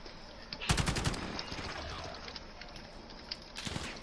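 Bursts of machine pistol fire in a video game: a rapid rattling burst near the start, scattered single shots, then another short burst near the end, moderately loud over background game ambience.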